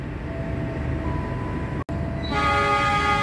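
Argo Cheribon passenger train departing Losari station, steady rail rumble then a loud sustained horn blast rising in the final second, after a brief dropout.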